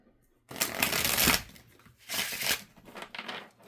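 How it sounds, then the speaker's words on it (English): A tarot deck of cards shuffled by hand in two bursts: a long riffling rustle followed by a shorter one, close and fairly loud, with no one speaking. "I'm just going to shuffle the deck a couple times"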